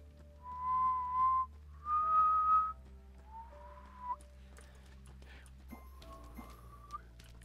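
A person whistles a few short sustained notes into a gaming headset microphone, with two louder phrases followed by softer, wavering attempts and faint background clicks.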